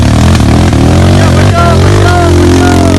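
A KLX or CRF trail motorcycle engine revs loud and close on a challenging off-road track, a continuous throaty roar that rises and dips in pitch as the throttle is worked.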